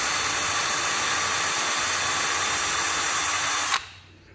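A power drill whines loudly and steadily as it bores a small hole in a rustic craft angel's head, then cuts off abruptly near the end.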